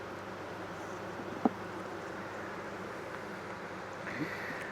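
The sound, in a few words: loud buzzing of honey bees in a hive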